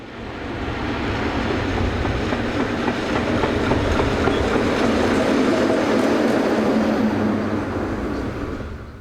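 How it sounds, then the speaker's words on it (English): CFL class 3600 locomotive number 3604 hauls a freight train along a branch line from the riverside port at Metz, a steady close rumble with rhythmic wheel clatter that builds and then eases slightly as it passes. "Number 3604 heads along the branch up from the riverside port at Metz after bringing in the 1543 freight from Bettenbourg."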